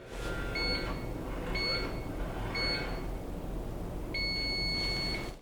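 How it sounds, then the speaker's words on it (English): Three short electronic beeps at even intervals, then one longer beep signalling a Guldmann GH1F hoist is installed, loud and close over a steady background hum. "What we're listening for here is a long beep."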